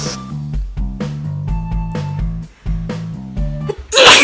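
A person sneezes once near the end, a short sharp burst breaking through steady background music.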